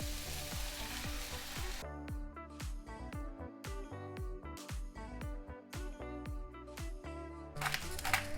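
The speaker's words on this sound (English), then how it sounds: "now that our onions and garlic saute" Onions and garlic sauté in a pan with a quiet hiss that is strongest in the opening seconds, then continues low beneath tonal, music-like patterns.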